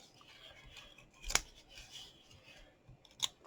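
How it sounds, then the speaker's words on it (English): Two quiet, crisp snips of scissors trimming paper for a craft chocolate box, spaced about two seconds apart against a soft room hush. "I'm just trimming it with my scissors."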